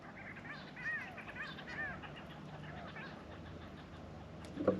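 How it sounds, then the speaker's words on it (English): Birds call at dusk near the abandoned Big Bell gold mine in outback Australia, a few scattered chirps and whistles carrying over a faint steady hum of distant mining machinery, with soft background noise throughout. "You've got the faint hum of machinery in the background there from the Big Bell mine, along with the birds playing"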